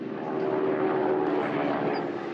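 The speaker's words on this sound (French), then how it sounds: "un avion, le Lysander, capable de décoller et d'atterrir sur un petit terrain" A Westland Lysander propeller airplane, a wartime plane built to take off and land on small fields, drones steadily at close range, its engine hum loud and constant throughout with no voices.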